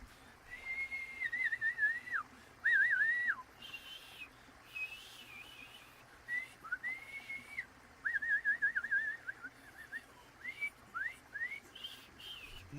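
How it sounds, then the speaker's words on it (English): A run of shrill whistles, short rising and falling tones repeated in bursts with brief gaps, sounds from a large auditorium crowd over a steady background murmur. "A bunch of whistles and shit."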